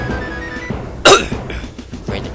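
One loud, abrupt cough rises sharply out of quieter background sound, followed by softer noise.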